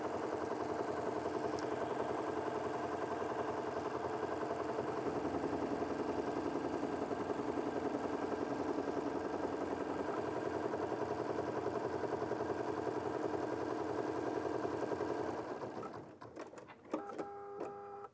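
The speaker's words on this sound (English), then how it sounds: "the machine will take a few stitches and then it will continue on and finish the basting box" An embroidery machine stitches a basting box on a quilt, a steady, close mechanical hum with fast regular needle clatter that runs unbroken for about fifteen seconds before slowing and ending in a few clicks and clunks.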